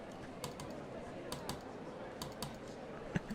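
Quiet, scattered mouse clicks while playing RollerCoaster Tycoon World, a few sharp separate taps spread irregularly over a few seconds with faint background noise.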